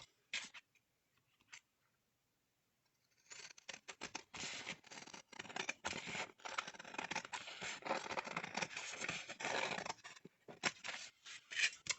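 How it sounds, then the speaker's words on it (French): Large scissors snip through a sheet of paper for making envelopes, a few quick isolated cuts at first, then a long run of steady crisp slicing and rustling close up. "Je prends mes grands ciseaux."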